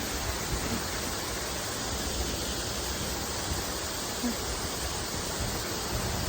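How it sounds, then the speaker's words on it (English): Water from waterfalls in Greenville, South Carolina rushes as a steady, dense, broadband roar with no pauses, close and continuous, with no voices. "Enjoy listening to the sound of the water from the waterfalls."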